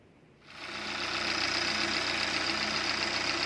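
A Kia or Hyundai 2.0L GDI car engine starts up and settles into a steady, loud running drone with a fast mechanical knock, close by and continuous, exhaust routed into a pipe.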